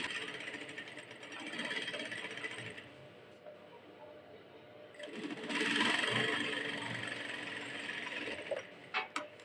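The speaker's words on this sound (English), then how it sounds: "and then I'll start sewing" Sewing machine stitching a fabric tulip sleeve, a quiet mechanical whir running in two bursts separated by a pause, with faint clicks at the end and no talk.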